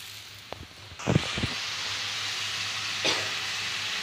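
A vegetable dish in a frying pan sizzles with a soft, steady hiss after being turned over. Clattery handling noises come in the first second and a half, and a brief louder sizzle bursts out near the three-second mark.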